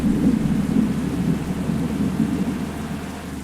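Steady rain and thunder roar from a bus driving video game, a dense low rumble with a constant wash of rainfall that holds at a fairly loud level and eases slightly toward the end.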